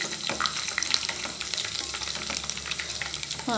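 Two or three sprigs of curry leaves sizzle and crackle in hot oil. The frying is loud and close, with sharp pops over a constant hiss and no voices.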